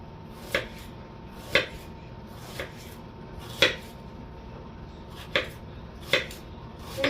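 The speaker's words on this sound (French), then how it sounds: "On va couper notre oignon" A knife chops an onion on a cutting board in sharp, separate thuds, about nine of them at an uneven pace over several seconds, close by against a quiet room.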